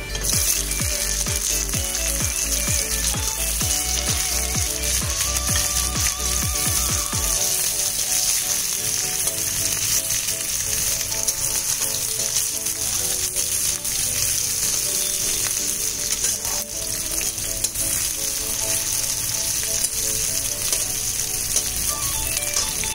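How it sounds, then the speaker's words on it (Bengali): Onions frying in a pan with bay leaves for a Bengali eggplant-and-goat-meat curry: a steady, loud sizzle throughout, with rhythmic clanks of stirring against the pan during the first seven seconds. "পেঁয়াজটা লাল লাল করে ভেজে নিতে হবে।"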